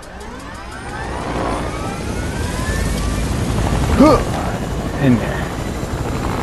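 A helicopter in the video game Fortnite drones steadily throughout with a low, whirring engine tone, while players talk briefly over it near the middle.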